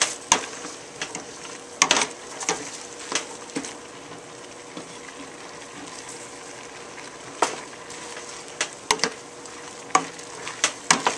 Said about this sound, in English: Give them a quick little stir.